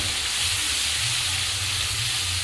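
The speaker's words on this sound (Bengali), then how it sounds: "এক চামচ লঙ্কার গুঁড়ো পরিমাণ মতো হলুদ দিয়ে বন্ধু আমি এটা ভালো করে একটু কষিয়ে নেবো" Spices with chili powder and turmeric sauté in hot oil for a mutton curry, giving a continuous loud sizzle and hiss close up, steady throughout with no voices.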